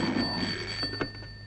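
A telephone rings in a brief electronic trill over a steady background hum, heard alone without talk.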